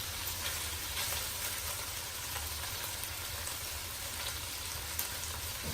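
Chicken pieces frying in a pan over medium heat for chicken jalfrezi, giving a steady, even sizzle that stays close and moderately loud throughout with no voices.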